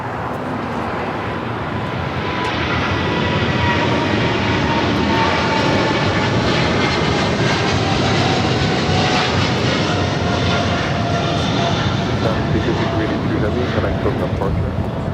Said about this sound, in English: This is China Airlines Cargo 5382 taking off to Miami on a 777 freighter.